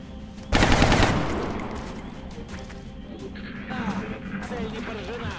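Burst of gunfire in XCOM Enemy Within (Long War), a loud broadband blast lasting about half a second that decays into a fading tail, followed by quieter game ambience and a faint voice.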